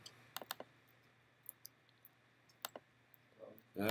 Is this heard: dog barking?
no